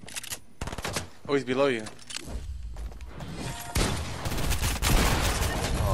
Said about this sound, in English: He's shooting at me from the hill, dude.